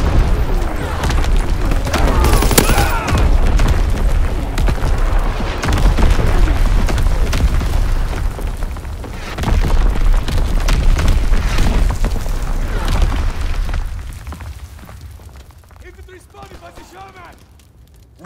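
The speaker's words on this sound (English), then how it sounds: "Incoming enemy artillery." Enemy artillery barrage in a video game, with heavy booms and blasts rolling almost continuously, loud and dense, easing off toward the end while voices talk over the chaos.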